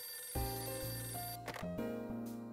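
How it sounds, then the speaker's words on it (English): An old-style telephone bell rings in the Hotel Dusk: Room 215 video game, a quiet, steady electronic trill over soft game music, with no talking. "Phone's ringing."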